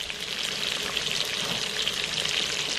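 Homemade meatballs browning in oil inside an Instant Pot give a steady, even frying sizzle, a constant hiss with faint crackles, moderately quiet and close, with no voices over it.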